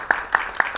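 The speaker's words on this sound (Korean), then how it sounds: "다시 한번 뜨거운 박수 보내주세요." Audience applause during a career lecture event, heard as a few distinct claps in quick succession at a steady rhythm, brief and close.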